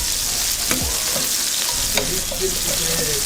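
Chicken pieces for chimichurri chicken rice sizzle loudly and continuously in a pan, close up, with a couple of sharp clatters and scrapes as pieces are flipped and stirred.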